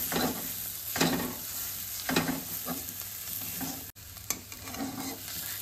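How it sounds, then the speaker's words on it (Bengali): Fried potato pieces and broken nuts stirred together in a hot pan, with a steady close sizzle and repeated scraping strokes roughly once a second. "এবার পুরোটাকে ভালো করে মিশিয়ে নেব।"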